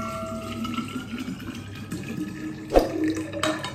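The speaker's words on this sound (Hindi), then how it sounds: "यहाँ पर मैं गर्म पानी भर लेती हूँ अपनी वाटर में" Hot water poured into a water bottle, a steady rushing, gurgling flow with a brief clunk partway through, close and moderately loud, with no voices.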